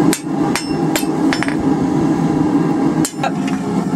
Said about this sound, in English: as we're lightly tapping it like this, we're doing what's called planishing, which is removing any of our hammer marks